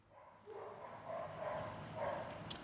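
Several dogs bark faintly in the distance over a low, steady background, with the barking swelling and fading across the few seconds and a brief sharper sound near the end.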